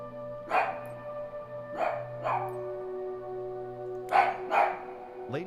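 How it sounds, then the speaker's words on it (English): A dog barks in short bursts, about five yelps spread over several seconds at moderate distance, over a steady electronic hum from a flight-simulator setup indoors. "Now he's barking at me, the image of me on the screen."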